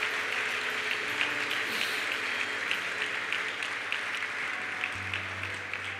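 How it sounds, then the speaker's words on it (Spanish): A church congregation breaks into loud, sustained applause, a dense even wash of clapping that holds steady throughout, with no talking over it. "¿Cuánto le pueden dar ese aplauso fuerte al Señor?"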